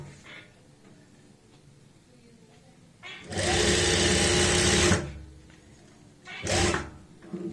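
An electric sewing machine stitches an angrakha kurti in two bursts, a loud sustained whir of about two seconds followed by a shorter run, with quiet handling sounds between.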